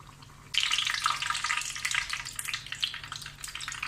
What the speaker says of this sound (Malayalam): അതിന് മുമ്പ് ഒരു ഉരുളക്കിഴങ്ങിൻ്റെ ബജ്ജി ഇട്ടിട്ടുണ്ട് ഞാൻ